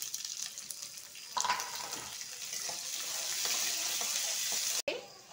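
Onions added to hot oil in a pan for puliyogare gojju, hissing and sizzling steadily with a brighter surge after a second, close up and continuous until a sudden cut near the end.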